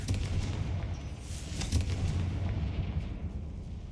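A Confringo fire spell blasts in Hogwarts Legacy, a steady rumbling explosion with low booming energy that carries through the whole moment, no voices over it.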